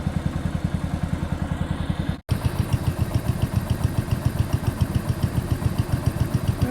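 Close, loud garden tractor engine idling with a fast even chugging pulse, a Case 224 alongside a 1970 John Deere 140; a brief dropout cuts in near the two-second mark before the steady idle carries on.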